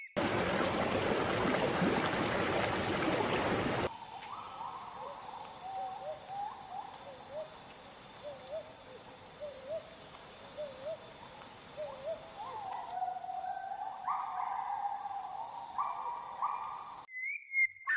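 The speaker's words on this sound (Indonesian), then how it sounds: "suara serangga dan burung hutan menjadi latar alami bagi kehidupan liar yang bergantung pada aliran sungai ini" Forest insects buzz steadily beside the Kapuas River in Kalimantan, with a bird giving a series of soft, repeated hooting calls; a brief burst of rushing noise opens the scene.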